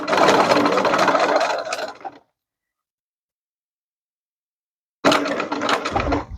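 A sewing machine runs in two close, loud bursts while stitching a fabric waistband being taken in, with a steady whirring rattle, a stop of about three seconds of silence, then stitching resumes; no talking.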